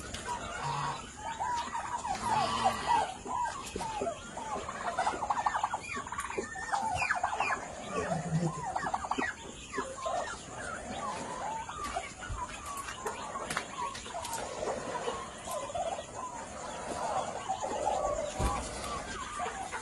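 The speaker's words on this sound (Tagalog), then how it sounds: "Ayun, may sisiw. May sisiw na isa." Newly hatched chick peeping among other chickens, small high chirps and soft clucks scattered over a steady background hum, a faint voice occasionally in the mix.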